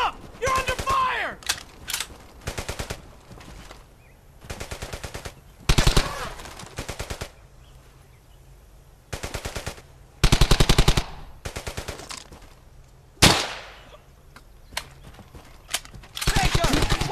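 Machine-gun and rifle fire in the World War II shooter Brothers in Arms: Hell's Highway crackles in repeated sharp bursts, some close and loud and others fainter, separated by brief quieter gaps.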